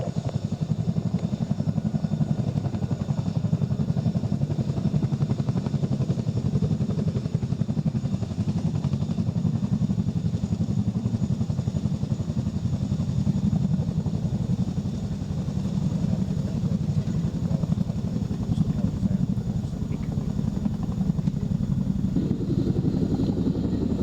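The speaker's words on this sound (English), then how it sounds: "The manoeuvre Dave is executing is called the running landing, normally used to land the aircraft with limited power following an engine failure" A Chinook helicopter performs a running landing at an airshow, its deep, steady rotor thrum and engine roar holding loud and unbroken throughout, heard from the crowd's vantage.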